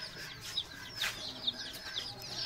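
Baby chicks chirping in a village setting, a cluster of short high peeps repeating irregularly and close by, fairly faint, with no talk.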